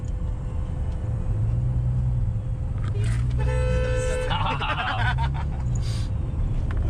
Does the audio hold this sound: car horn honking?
yes